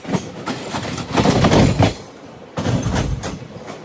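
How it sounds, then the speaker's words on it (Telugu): A Berhampur–Visakhapatnam passenger train rushes past close by, a loud roar of rolling wagons broken by rhythmic clatter and a short gap between coaches. "అటు సైడ్ ఒక ట్రైన్ అయితే వస్తుంది, నాకు తెలిసి బరంపూర్ విశాఖపట్నం ప్యాసింజర్ అనుకోండి"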